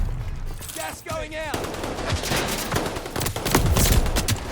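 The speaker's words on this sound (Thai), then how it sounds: "เสียงปืนนี่คือแบบว่าสงครามอ่ะ" Rapid bursts of gunfire in Call of Duty Vanguard, a World War II shooter, with dense overlapping shots and a brief swooping whistle. The firing builds louder toward the end.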